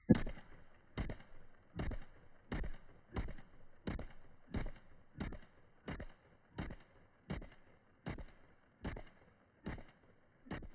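Dan Wesson DWX Compact pistol fired at a shooting range: about fifteen sharp, evenly spaced shots, each roughly three-quarters of a second apart, heard alone in a steady slow rhythm.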